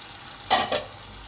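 Tomato paste and chopped tomatoes hitting hot oil in a pan for a fish masala, giving a quiet sizzling hiss with two brief louder stirring swishes, near and without speech.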